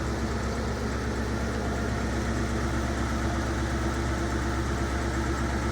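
1978 Rolls-Royce Silver Shadow II engine idling soon after starting, a loud, steady, even rumble close by that holds without change throughout.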